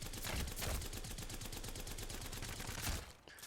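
Havok rifle firing in Apex Legends, a sustained rapid burst of automatic gunfire that stops near the end, faint and steady throughout.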